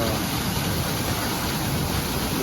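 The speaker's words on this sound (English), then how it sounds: "Super rain. There's a ton of drops falling." Heavy rain pours down at night near Leakey, Texas, a dense, steady wash of countless drops that holds at an even level throughout with no voices.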